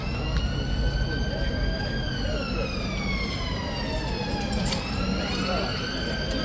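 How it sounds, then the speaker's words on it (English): Police and ambulance sirens wail at a distance, long sweeping tones rising and falling over steady street noise, with a second siren joining partway through. "Police and ambulance."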